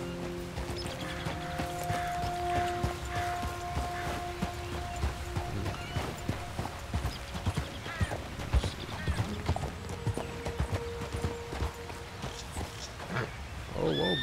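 Steady clip-clop of horse hooves in the video game Red Dead Redemption 2 over a low rumbling background, with occasional animal snorts and faint tonal sounds mixed in.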